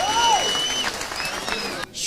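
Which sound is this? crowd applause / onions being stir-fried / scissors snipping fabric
crowd applause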